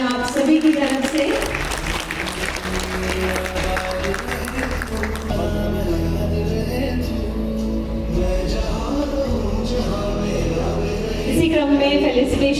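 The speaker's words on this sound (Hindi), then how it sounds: "आइए जोरदार तालियां हो जाए आप सभी की तरफ से।" Audience applause at an award ceremony, steady broad clapping that runs the full length and swells slightly near the end, with music and a voice underneath.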